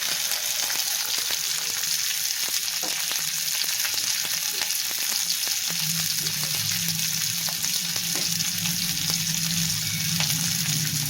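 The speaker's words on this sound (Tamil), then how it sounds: "பூண்டையும் வெங்காயம் ரெண்டுமே சேர்த்து நல்லா வதங்க விடலாம்." Onion and garlic sautéing in oil for a ridge gourd chutney, a steady crackling sizzle with occasional stirring clinks and scrapes, continuous and close, no voices.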